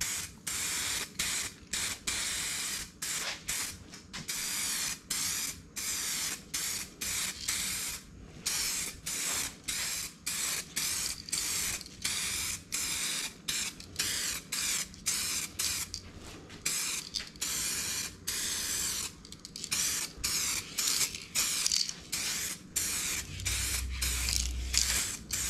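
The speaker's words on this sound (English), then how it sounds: "So now we can shake it, and then we will do a couple of thin coats on here" A two-part aerosol paint can sprays thin color-matching coats onto Bronco grill letters in repeated short hissing bursts with brief pauses between them, near and steady, ending with a low thump.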